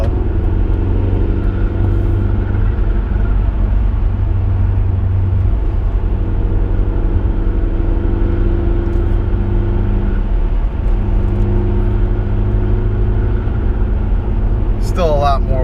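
Audi A4 with an upgraded K04 turbo accelerating on a test drive, a loud steady engine drone and road rumble inside the car that holds throughout, with brief shifts in pitch and no talking.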